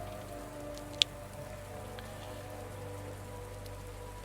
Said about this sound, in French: Il pleut ce matin sur la ville.